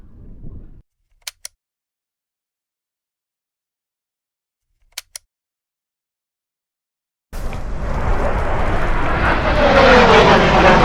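After near silence with a couple of faint clicks, a small propeller plane roars in loudly overhead, a broad sustained engine drone filling the end.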